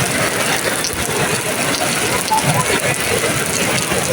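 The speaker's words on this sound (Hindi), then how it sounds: "बहुत तेज़ बारिश रहमत बरस रही है मोहम्मद के शहर में" Heavy rain pours at Masjid Nabawi in Medina, heard from under umbrellas as a steady, dense hiss of drops with light tapping close by.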